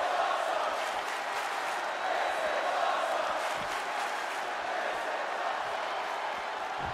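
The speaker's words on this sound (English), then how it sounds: "The roar of this crowd has been building, and they are at a fever pitch right now." A dense, steady crowd roar fills a WWE 2K22 Extreme Rules video game match, Triple H versus Shane McMahon, a continuous loud wash of cheering and noise with faint commentary underneath.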